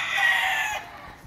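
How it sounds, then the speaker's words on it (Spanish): A jabao rooster, a fighting cock with blue eyes, lets out a loud, close crow that breaks off abruptly, followed by near silence with faint low rustling. "Gallo jabao elegante"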